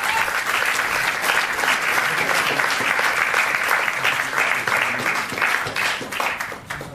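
An audience applauds an actor at a film premiere, loud dense clapping from a crowd that holds steady and tapers slightly at the end.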